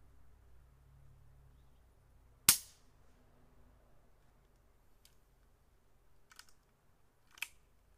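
A Taipan Mutant .22 air rifle fires one sharp, loud shot from about 15 ft, with a quick decaying report and a few faint clicks afterward, no talking.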